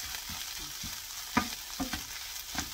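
Dried chwinamul greens stir-frying in a pan with perilla oil, a steady close sizzle broken by several sharp scrapes and clacks of the utensil tossing the greens, no voices.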